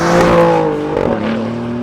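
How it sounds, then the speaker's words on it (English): An Alfa Romeo Giulia GTAm with an Akrapovic exhaust revs loudly and close, its engine note rising and then settling into a strong steady drone without anyone speaking. "this thing sounds utterly fantastic. The Akrapovic exhaust is a masterpiece."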